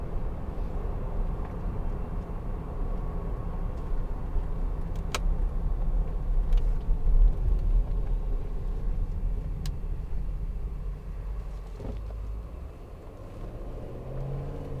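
A 2012 Range Rover TD V8 Westminster diesel engine runs with a steady low rumble heard from inside the moving car, with no speech.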